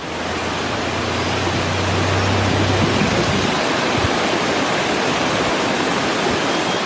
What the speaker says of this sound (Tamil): இதனால் அருவிகளுக்கும் நீர்வரத்து அதிகரித்தது.